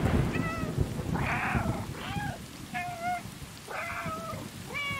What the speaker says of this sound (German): Wir können miauen.